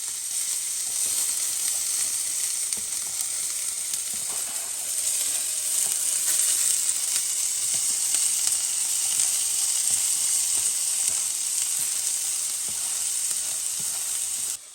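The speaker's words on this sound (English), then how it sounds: "When this starts sizzling, that means we're ready to put in our" Chopped onions and garlic sizzle steadily in hot oil in a pan, a dense, bright, continuous hiss with scattered small crackles and pops, heard close and unbroken with no voices.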